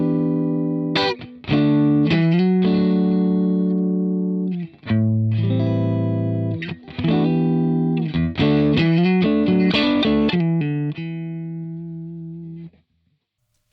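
An electric guitar plays chiming chords through a TWS 2864-S amp with no reverb or delay, the notes ringing loud and dry in short strummed phrases separated by brief pauses, with no voices.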